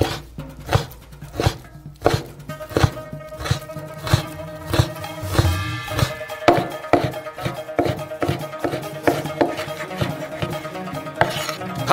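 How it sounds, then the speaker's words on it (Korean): Pork being chopped with a knife on a board: a brisk, uneven series of close knocks and taps, some clustered in quick runs, with no speech. "돼지고기도 똑같이 잘라주세요."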